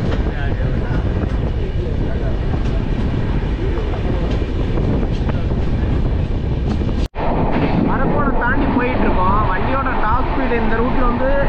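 An AC double decker train runs steadily at about 110 km/h toward Katpadi, producing a loud, continuous rumble with a sharp break midway while someone talks over the noise.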